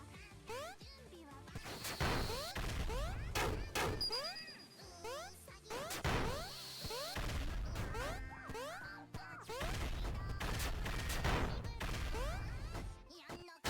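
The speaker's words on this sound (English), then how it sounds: "Saved by the explosion." Explosive crashes and whacks burst repeatedly in a fast-paced Lizards 2 video game match during Mystery Tournament 19, amid rapid electronic swooshes and chirping effects.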